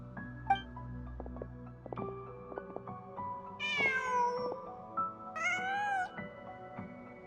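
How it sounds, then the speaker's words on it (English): A cat in the Genshin Impact video game gives two clear, rising meows over quiet game sounds and soft background tones, with a faint voice in the background. "Just a cat."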